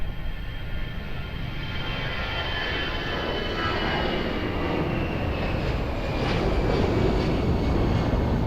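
An aircraft takes off from runway 02 at Lisbon Airport, giving a dense, continuous engine roar that builds slightly louder toward the end, fairly close and with no talking over it.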